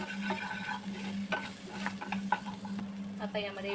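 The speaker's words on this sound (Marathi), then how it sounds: "मिक्स करून घ्यायचं" Butter garlic chicken being stirred with black pepper and salt in a pan, a soft steady sizzle under repeated scraping and clinking of a spoon against the pan, close by, with no talking.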